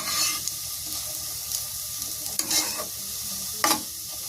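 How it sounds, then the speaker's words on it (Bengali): A spoon scrapes and stirs as spices are mixed in a frying pan, with soft sizzling under a few sharper scraping strokes, close and fairly quiet. "এগুলো হচ্ছে মিক্স করে নিচ্ছি"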